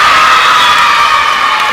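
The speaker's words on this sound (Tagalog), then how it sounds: "nabubuhayan dito yung crowd ng USI Falcons" USI Falcons supporters cheer at a volleyball game against the BU Wolves, a loud, continuous roar of shouting and whooping voices filling the gym, with no break in the noise.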